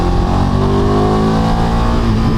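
A Ducati Multistrada V2 motorcycle in A2-restricted trim accelerates on the road, its engine note loud, close and continuous, rising steadily in pitch with no talk over it.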